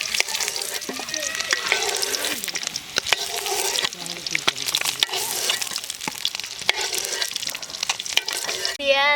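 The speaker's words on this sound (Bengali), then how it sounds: "ভেজে নেব তার জন্য পরিমাণ মতো তেল দিয়ে দেবো" Oil frying in a pan during outdoor village cooking, a steady bright sizzle with scraping stir strokes throughout, loud and close, with talk in places.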